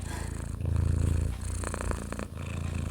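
A cat purrs steadily up close, a soft continuous rumbling with a low pulsing texture that swells and fades over a few seconds, with faint background noise.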